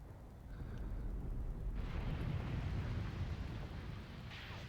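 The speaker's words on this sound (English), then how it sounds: "Also dropping some artillery fire into this Balka" Artillery fire in the Graviteam Tactics war game, a low, rumbling barrage of distant blasts rolling on for several seconds, heavy and muffled with a dull boom-filled tail.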